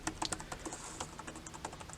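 Quiet, quick typing on a VASTKING KingPad K10 tablet keyboard with flat keys, giving light irregular clicks close by with no talking.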